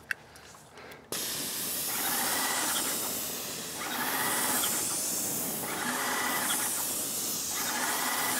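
A loud, steady high-pitched hiss of a Titan Control Max 1900 airless paint sprayer spraying water outdoors in wind begins abruptly after a brief quiet moment and continues, pulsing slightly, with no talking.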